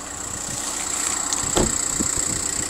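A VW Passat estate with a 1.9 engine idles steadily at low level, a soft continuous hum with a faint high whine and one brief louder bump midway.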